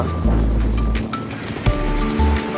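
Sea waves surge and wash against the shore on a UK coast in rough, windy weather, giving a close, continuous rumble with a few sharper splashes.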